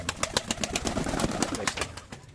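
Pigeons in a home loft, including a colourful racing pigeon, flutter and coo close by in a busy stream of soft cooing and rustling wing flaps, with sharp scratchy clatters recurring throughout.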